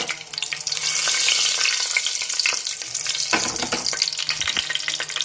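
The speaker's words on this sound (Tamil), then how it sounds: "நல்லா கடுகு பொரிஞ்சு வரட்டும்" Mustard seeds splutter and crackle in hot oil with a green chilli, a loud, continuous sizzle dotted with sharp popping bursts close by.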